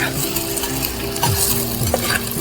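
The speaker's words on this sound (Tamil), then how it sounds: "இப்போ இந்த வெங்காயம் வந்து நல்லா மசையிற இடம் வதக்கணும்." Sliced onions with ginger-garlic sauté in a pan for a beef curry, giving a loud close sizzle broken by repeated scraping stirs of a spoon against the pan, with no talking.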